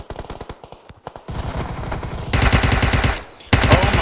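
Gunfire in a multiplayer shooter video game, loud close bursts of rapid automatic shots with brief pauses between them, sharp and continuous toward the end, with no talking.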